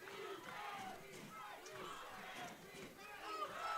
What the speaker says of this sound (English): You can hear some chants coming from the crowd now